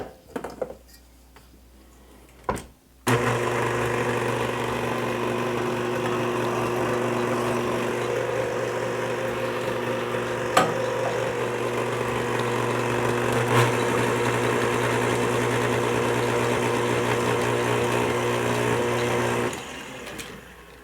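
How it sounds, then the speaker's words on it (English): Stand mixer whirring steadily as it mixes pumpkin muffin batter in a bowl, a loud even motor hum that starts abruptly after a few quiet seconds and stops near the end, with occasional clinks. "I'm going to put this all in my stand mixer"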